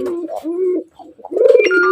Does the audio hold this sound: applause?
no